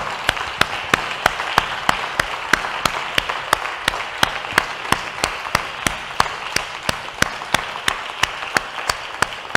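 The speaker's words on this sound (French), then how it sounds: "qu'ils vous fassent, peut-être pas une minute, mais un bel applaudissement" Applause from the audience for graduates at a diploma ceremony, a room of hands clapping in a steady, loud wash. Some sharp, regular claps stand out in a strict rhythmic beat through the whole stretch.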